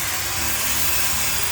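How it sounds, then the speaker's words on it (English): A drill fitted with a metal wire brush scrubs oxidation and peeling paint off an aluminum frame, producing a steady, loud, continuous abrasive hiss with no pauses. "now I'm using my metal brush installed on the drill to remove all the oxidation"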